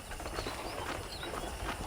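Horse hooves clip-clopping in the video game Red Dead Redemption, a quiet rhythmic series of hoofbeats at walking pace under faint ambient sound, with no talk.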